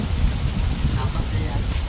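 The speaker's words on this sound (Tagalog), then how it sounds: "Ayan na ang ulan." Steady rain falling outdoors near a river after a heavy downpour, a constant broad hiss with low rumble throughout, fairly loud and unbroken.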